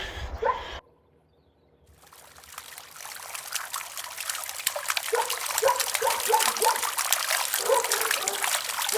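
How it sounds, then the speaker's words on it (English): Water running from a roadside fountain along a rural walking route, a close trickling and splashing stream that builds after a brief quiet gap and continues steadily. "There's a water fountain here. The water constantly running."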